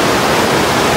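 The Indravati river rushes past in a dense, continuous roar of flowing water, loud and close with no other sounds.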